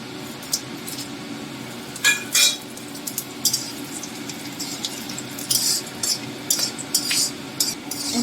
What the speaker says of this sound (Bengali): ফোড়নটা আমি একটু ভেজে নিচ্ছি।